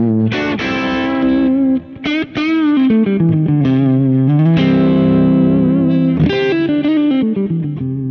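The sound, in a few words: electric guitar through Kemper with mid-range cut by EQ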